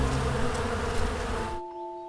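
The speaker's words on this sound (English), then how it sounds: "What I do is I grab a bee brush to brush these bees off." Honey bees buzz in a dense, steady drone on a hive frame close by, then the swarm sound cuts off abruptly, leaving a faint tonal hum.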